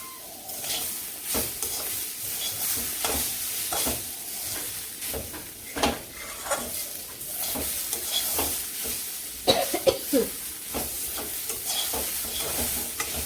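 Turmeric and chili powder frying in a pan while being stirred, a continuous close sizzle broken by frequent sharp scraping and clattering strokes at an irregular rhythm, with no talking.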